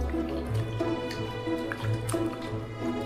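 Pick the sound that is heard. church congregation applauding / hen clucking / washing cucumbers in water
washing cucumbers in water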